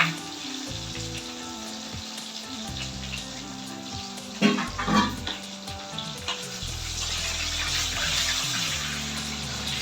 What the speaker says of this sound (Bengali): ফুলকপিটা দেবো বিনসটা দেবো আর ক্যাপসিকামটা দেবো দিয়ে ভেজে নেবো